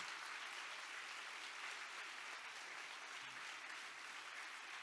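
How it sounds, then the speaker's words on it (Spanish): A church congregation applauds steadily and loudly throughout, a dense continuous wash of clapping with no break and no voices standing out. "Dale fuerte el aplauso a Jesús."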